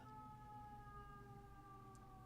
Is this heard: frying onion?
no